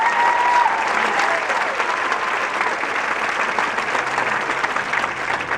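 Audience applause for the freshman members of the Dobyns-Bennett band at a parent show, steady dense clapping from a large crowd held at an even level throughout, with a few faint voices and whistles mixed in.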